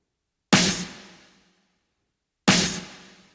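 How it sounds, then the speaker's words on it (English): An Afro House snare drum with EQ boosts and lows cut at 100 Hz strikes twice, about two seconds apart, each hit a bright, loud crack that rings out slowly before silence. "That really brings that snare drum out."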